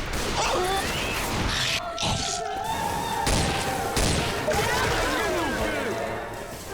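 Explosive rounds in Left 4 Dead 2 go off as repeated heavy gunshot cracks and impact bangs across several seconds, mixed with zombie combat noise while people talk over the shooting.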